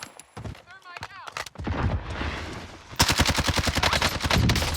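A Cold War Warzone match with a Bullfrog submachine gun loadout: a burst of gunfire comes partway through, then rapid, loud automatic fire rattles steadily to the end, with a player speaking over the early part.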